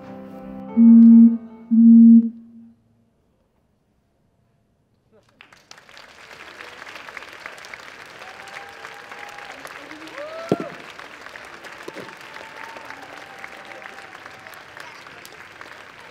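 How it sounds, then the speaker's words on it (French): Audience at a cosplay contest applauding, a steady moderate clapping crowd rising after two loud tones and a short silence, with voices faintly underneath. "Vous pouvez vraiment l'applaudir bien fort"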